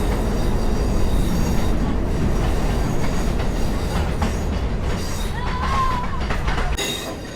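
A new Mombasa commuter train runs along the rail tracks, filling the scene with a loud, steady, close rumble of wheels on rails and a brief high wheel squeal partway through.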